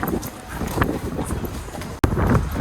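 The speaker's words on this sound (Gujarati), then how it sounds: "પવન તો બહુ છે ઠંડો પણ" Strong, cold wind buffets the microphone in loud, rumbling gusts that barely let up, with a sharp break near the end before the roar resumes.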